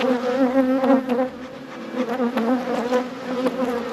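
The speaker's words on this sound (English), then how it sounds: "These bees are actually pretty aggressive, and yeah, it's a full box of bees." Honey bees buzz in a full, opened hive box during a spring check-up, a dense, continuous droning hum with layered wingbeat tones, close and steady with no talking.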